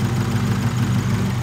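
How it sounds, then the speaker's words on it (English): A Honda/Acura engine fitted with a coil-on-plug kit and no muffler idles loudly and close, a steady low throbbing rumble with no voices. "So the car is idling, seems to be working great."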